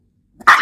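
A single loud, close dog bark bursting out suddenly after near silence.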